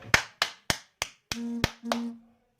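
Children in a second-grade classroom clap hands together in a slow, even series of about seven sharp claps, some of them overlapped by a brief sustained tone, with no talk.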